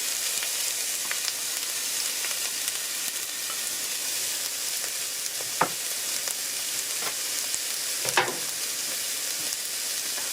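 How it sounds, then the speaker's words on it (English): Onions sizzle steadily in a soup pot for a white bean and kale soup, a dense continuous frying hiss with a couple of sharp stir clatters, close and alone without talk. "Alright, everyone, I'm gonna go ahead and add my onions."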